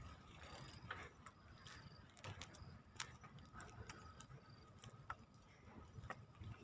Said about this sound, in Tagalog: Mga kuliglig oh.